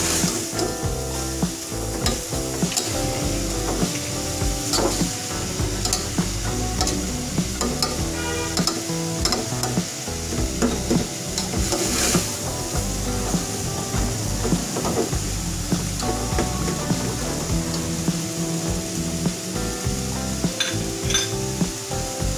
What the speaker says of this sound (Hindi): जब तक चिकन क्यूब अच्छी तरह मेल्ट होकर बीच में मिक्स नहीं हो जाती तब तक हमने इसे हिलाते जाना है।